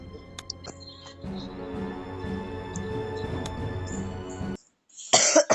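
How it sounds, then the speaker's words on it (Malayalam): Coughing and throat clearing from a person playing the horror game Granny 2, close to the mic, with game ambience behind and a short quiet gap near the end. "ചുമ പോയിട്ടില്ല ഗൈസ്."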